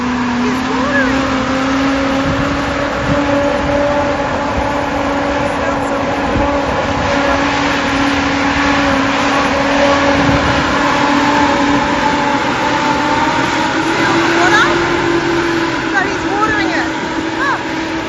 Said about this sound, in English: what it is the tractor going in between the fields